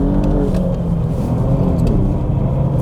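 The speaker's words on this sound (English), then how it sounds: "my foot is flat to the throttle, flat on the floor. Now the power is coming in" An Alfa Romeo Stelvio is driven at full throttle on a racetrack, its engine giving a loud, continuous, close cabin roar and rumble as power builds, with no talk.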